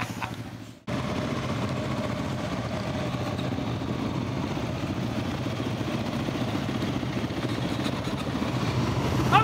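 A Yamaha WR250R dirt bike engine starts up after a brief drop and holds a steady, close mid-pitched drone, rising slightly toward the end as the rider moves off.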